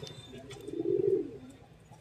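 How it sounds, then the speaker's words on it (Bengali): A Lalshira pigeon in a loft gives a single soft, low coo that swells briefly and fades, close by but quiet over faint background noise. "লালশিরা কবুতর, লালশিরা, লালশিরা কবুতর গায়েস, খুবই সুন্দর কোয়ালিটি"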